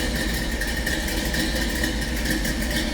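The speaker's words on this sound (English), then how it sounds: "A little rumble coming out of that 350." Deep, steady rumble of a 1965 Chevrolet Malibu 2-door hardtop's 350 V8 idling through side-exit exhaust, continuous and close with no voices.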